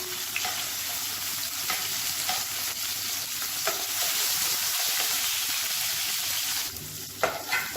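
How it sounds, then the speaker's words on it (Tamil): Steady sizzling of onions frying in a pan, with occasional stirring scrapes, continuous and close. "வெங்காயம் நல்லா வதங்கிடுச்சு."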